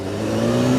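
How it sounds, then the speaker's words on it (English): A BMW S1000RR motorcycle with stock exhaust revs briefly, a steady throaty engine drone that swells slightly over under a second, close and loud with no talk. "It's the best sounding stock exhaust I have ever heard."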